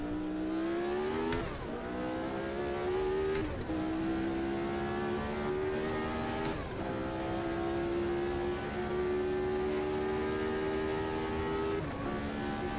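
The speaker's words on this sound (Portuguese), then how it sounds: "O ronco do motor é sinistro demais" A McLaren Formula 1 race car engine in the racing game Automobilista 2 gives a loud, continuous high-revving roar. The pitch climbs through the gears, broken by several sharp upshifts, with no talking.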